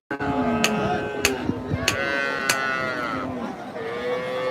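Cattle low repeatedly at a crowded rural cattle market in Kaladia, Pakundia, Kishoreganj, Bangladesh, long drawn-out moos rising and falling one after another over steady market crowd noise, with sharp knocks cutting through.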